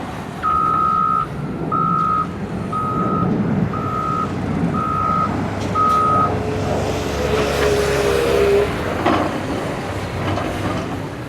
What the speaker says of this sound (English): Got that truck over there.